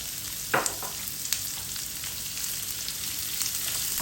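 Onion sizzles steadily while frying in a pan, with a few sharp clinks and scrapes of stirring over the continuous hiss.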